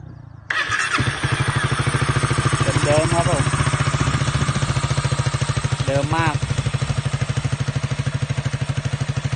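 A Honda CBR250 motorcycle engine with a near-stock setup and fresh spark plug cranks and fires, then settles into a steady, rapid idle that lasts to the end. Someone speaks briefly over the running engine.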